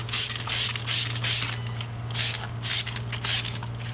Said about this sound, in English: grab your Iron X, and then just spray it down over this area